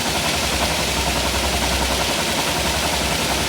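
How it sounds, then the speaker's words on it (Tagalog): A steady engine drone from a carburetor engine being tuned runs beneath heavy, hissing rain, both constant and loud with no break or pause. "Dinig nyo yung andar ng makina, kasabay ng andar ng ulan"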